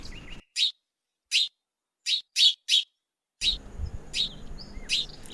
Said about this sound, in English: Sparrow. This is a sparrow. It is small in size.